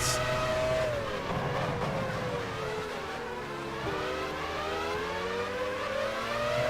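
Formula 1 car engines from the 1999 season race loud and steady at the British Grand Prix in the F1 Challenge 99-02 racing game, their rising and falling whine continuous throughout with tire noise underneath.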